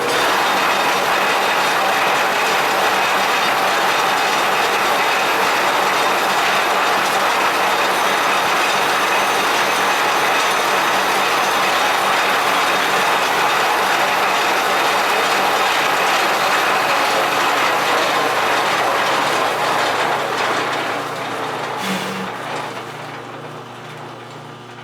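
A metal lathe takes a final light spring pass across the welded bore of a hydraulic cylinder end, giving a loud, steady broadband machining drone with a low hum that drops away as the cut finishes near the end.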